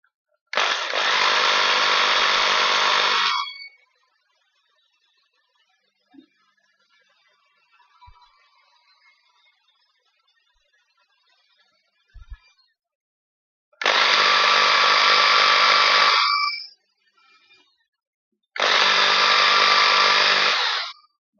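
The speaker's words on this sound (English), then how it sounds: "now we drill the hole" Three bursts of a high-pitched electric drill whining as it drills a hole in a model house, the first about three seconds long, separated by quiet pauses with faint handling noises.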